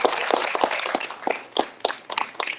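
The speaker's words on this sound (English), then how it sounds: "let's give him a big round of applause." An audience claps for a lecturer at a distinguished lecture series event, a dense, steady round of applause from many hands filling the room, with sharper individual claps standing out.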